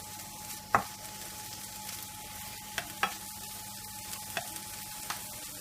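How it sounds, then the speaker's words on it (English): Chicken and bacon frying in a pan for a pie, a steady soft sizzle with occasional light clicks of stirring, quiet and close with no talking. "Right, I'm just going to fry that up nicely."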